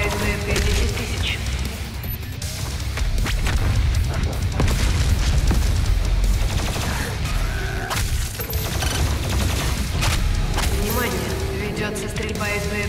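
Rapid bursts of gunfire and booming explosions crackle continuously, dense and loud, in a Doom Eternal game battle.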